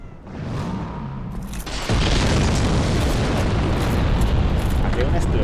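An explosion in Dark Souls bursts in abruptly after a quieter stretch, becoming a loud, sustained roaring rumble that fills the rest of the moment.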